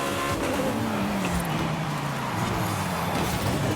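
A Jaguar C-X75 in the Forza Horizon 5 racing game drives past at steady volume, its engine note sliding slowly downward as it goes by, with no voices over it.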